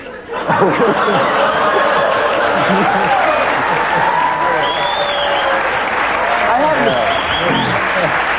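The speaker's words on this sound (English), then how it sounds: "I have no idea why you applauded on that line" A studio audience on a late-night political talk show claps and laughs in a sustained, loud wave of applause, with chatter and voices mixed through it.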